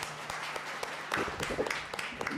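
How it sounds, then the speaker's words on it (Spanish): Applause from a seminar audience welcoming a guest speaker, a steady patter of many hands clapping at moderate volume, with a few stray voices mixed in. "un aplauso grande, por favor para nuestra invitada"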